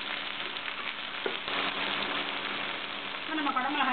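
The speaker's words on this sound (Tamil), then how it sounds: "இந்த மாதிரி கத்திரிக்காவை ஒரு 2 நிமிஷம் நல்லா வதக்கிக்கலாம்" Brinjal (eggplant) sautéing in a pan for a brinjal capsicum masala, a steady moderate sizzle with crackle, close by, with no talk.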